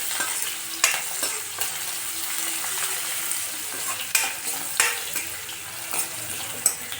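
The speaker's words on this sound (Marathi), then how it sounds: "त्यानंतर टाकायचं आहे लसूण आणि कोथिंबीर. त्याला हलकं फ्राय करून घेऊया." Garlic and coriander frying lightly in a pan for an Indian tondli (ivy gourd) vegetable dish, a steady soft sizzle broken by several sharp stirring scrapes, close and alone with no talk.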